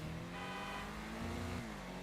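A car in FiveM, the GTA V roleplay mod, speeds past a roadside speed camera, its engine a steady close drone with a slight rising pitch over two seconds.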